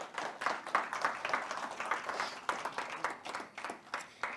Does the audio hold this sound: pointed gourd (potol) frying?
no